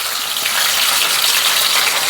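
Pearl spot fish fries in hot oil in a pan, producing a loud, continuous hissing sizzle close by with no talking.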